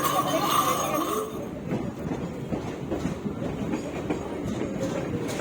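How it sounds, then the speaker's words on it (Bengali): A Tarakeswar local train at a station platform, a rumbling rail roll with clattering wheels that settles into a steady rhythmic clack after a brief brighter burst at the start. "এটা হচ্ছে তারকেশ্বর লোকাল দেয় হচ্ছে দুই নম্বর প্ল্যাটফর্মে"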